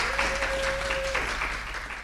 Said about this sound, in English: that's a lot of applause for this little room